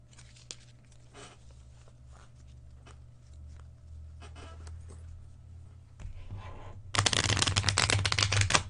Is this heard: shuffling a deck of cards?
yes